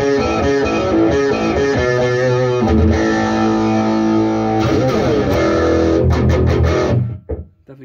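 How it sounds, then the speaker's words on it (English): An electric guitar plays through a Boss ST-2 Power Stack pedal with every knob at noon, producing loud, thick distorted chords and riffs that ring on steadily, then cut off into silence. "Definitely gives you a nice overdrive."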